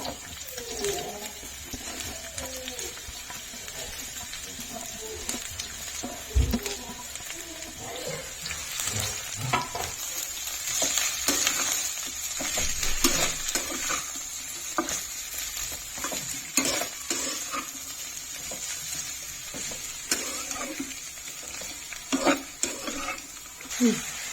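Cabbage, onion and curry leaves fry in a pan with a soft steady sizzle, interrupted by the scrape of stirring, while someone talks over the cooking.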